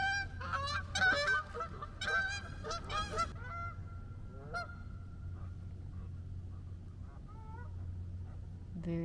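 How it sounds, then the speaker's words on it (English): Geese honking outdoors on a hike in Tennessee or Arkansas, a burst of loud repeated honks from several birds in the first few seconds, then scattered quieter calls over a steady low rumble. "Very brave geese."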